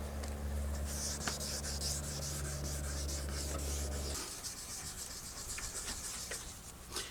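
Steady rubbing of a sanding pad against a hard plastic car headlight, a continuous scratchy abrasion with a low motor hum that drops out partway through.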